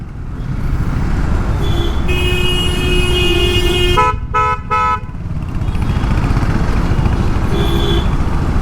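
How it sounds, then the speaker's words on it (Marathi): Car horns honking amid dense road traffic on a commute from home to the office, several sustained tonal blasts, including one with brief stuttered toots, over a constant loud roar of engines and road noise. "मला कोण हॉर्न वाजवणार आहे?"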